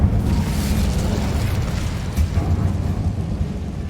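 Incendio fire spell cast in Hogwarts Legacy, a sustained roaring burst of flame with a deep rumble, loud at the start and holding steady for several seconds.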